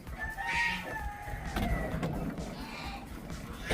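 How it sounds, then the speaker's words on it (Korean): Geese outdoors on a freezing winter day at minus five degrees honk in a loud, continuous overlapping chorus, with wind noise and a few voices underneath. "공사장 소리만큼 시끄러운 거위들"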